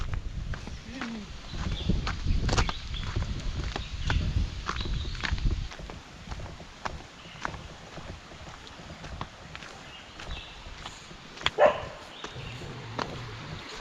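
A dog barks now and then outdoors in a Konkan village, the barks fairly distant and mixed with footsteps, clopping sounds and steady background noise.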